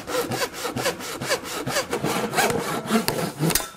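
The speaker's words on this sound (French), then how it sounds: "Je découpe le morceau de tube." A hand saw cuts through a PVC drain tube, with quick, regular back-and-forth rasping strokes, close and clear, and no voices.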